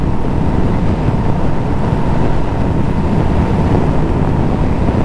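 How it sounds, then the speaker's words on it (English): Royal Enfield Meteor 350 motorcycle being ridden, a loud, steady low engine hum mixed with wind rush, constant throughout without speech. "It's not a super loud motorcycle."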